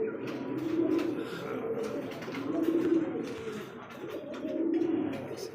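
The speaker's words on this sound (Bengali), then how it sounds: "আর এটা হচ্ছে মাদি কবুতর" Domestic pigeons, a male and female pair with red beaks and eyes, coo in repeated deep rolling phrases, close and steady, with no talk over them.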